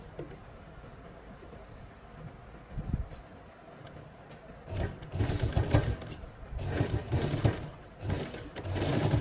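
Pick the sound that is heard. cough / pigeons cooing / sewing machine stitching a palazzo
sewing machine stitching a palazzo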